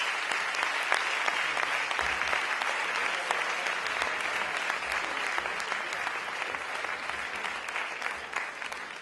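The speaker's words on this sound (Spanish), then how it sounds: "Un aplauso para él." Sustained audience applause at a Basque dance choreography competition in Álava, steady dense clapping from a large crowd throughout, tapering slightly toward the end.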